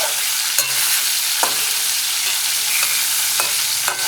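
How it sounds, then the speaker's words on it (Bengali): Fish fries in a pan with a loud, continuous close sizzle and occasional soft scraping taps, with no voices. "মাছ ভাজা তুলে দিয়েছি।"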